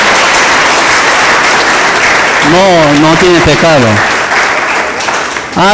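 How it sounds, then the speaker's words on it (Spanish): Applause from a congregation at a Bible seminar led by a pastor, broad clapping heard beneath a loud, sung-like preaching voice that rises and falls over the middle of the clip. "Un aplauso."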